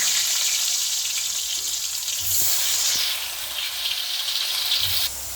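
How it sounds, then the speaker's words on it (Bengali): Potatoes coated in chilli powder, salt and turmeric hiss loudly into hot oil, a dense steady sizzle that dips briefly midway, then swells again before cutting to a quieter tail. "তেল গরম হয়ে গেছে, আলুগুলো দিয়ে দিলাম।"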